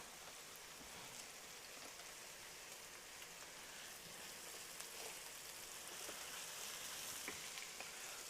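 Onions sizzling and crackling in a hot pan for a sausage and peppers rigatoni, a steady hiss with scattered pops throughout, fairly quiet and without talk.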